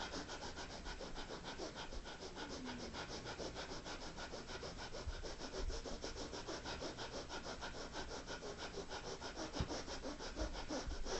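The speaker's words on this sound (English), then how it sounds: "Now let's do the breath of fire again" Rapid, forceful breath-of-fire breathing exercise done with the arms held up, a steady stream of quick rhythmic puffs of air close to the microphone that never pauses across the whole stretch.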